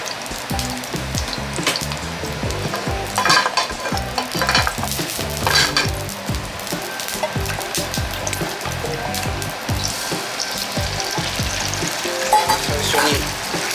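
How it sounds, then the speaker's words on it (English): Egg being scrambled in hot oil in a pan for Thai rice noodles, a loud, steady sizzle with scraping stirring strokes and occasional clinks, continuous throughout without talk. "First step, to make scrambled egg. This is egg oil."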